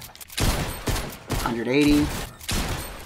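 Gunfire rings out from Fortnite in several separate bursts of sharp shots with short gaps between them. A voice talks over the middle burst.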